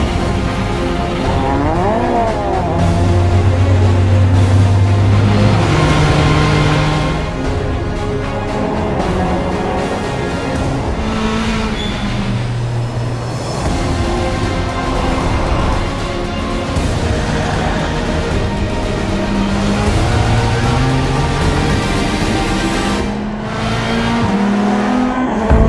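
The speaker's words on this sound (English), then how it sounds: "the Mantorp Park track qualifies as a classic racing circuit. In other words, exactly what the Volvo S60 Polestar is designed for" A Volvo S60 Polestar racing hard around the Mantorp Park circuit, its engine loud and close as it revs, climbs through the gears and drops on downshifts, with no talk over it.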